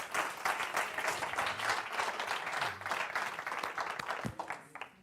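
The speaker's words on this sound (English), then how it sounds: "Can we give them another round of applause?" A church congregation applauds during a Sunday service with dense, steady clapping that carries on throughout, fading slightly toward the end.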